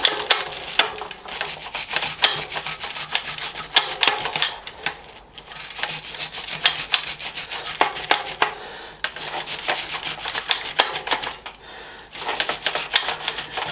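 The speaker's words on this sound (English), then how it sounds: "I'll use this brush on it." A brush scrubs a part from a Planet X road bike, with quick rasping strokes in a busy rhythm that break off in a few short pauses. The scrubbing is close up and no one speaks.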